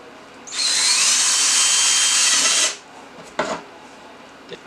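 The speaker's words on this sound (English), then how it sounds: "watch me drill almost about 100 holes through all these three containers" A power drill whines loudly in one continuous burst of about two seconds, drilling holes through plastic containers for an aquarium trickle filter, then stops, followed by a couple of faint clicks and knocks nearby.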